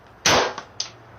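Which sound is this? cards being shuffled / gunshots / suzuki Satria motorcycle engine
gunshots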